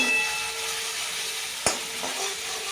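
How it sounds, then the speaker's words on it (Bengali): Spice mix with salt and sugar being sautéed in a pan, a soft steady sizzle with one sharp clink of a utensil against the pan midway, faint and close, no talking. "লবণ, একটু চিনি করে কষিয়ে নেব।"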